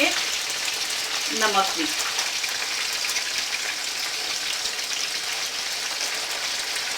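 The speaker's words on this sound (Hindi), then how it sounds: "लेकिन याद रखिएगा चिकन को हमने तेज आंच पे फ्राई करना है, हल्की आंच पे फ्राई नहीं करना" Chicken frying on high flame in a karahi for dhaba-style chicken karahi, a loud, steady, dense sizzle filling the whole stretch, with a brief spoken remark near the start.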